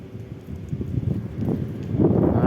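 Low, steady wind rumbles and buffets against the microphone, rising and falling in gusts with no talking.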